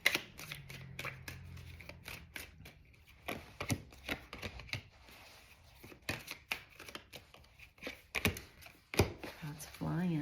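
Tarot or oracle cards shuffle in a run of quick, crisp riffles and taps spread across the stretch, close and moderately loud, with no talk over them.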